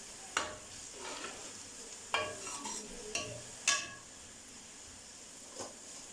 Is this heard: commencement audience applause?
no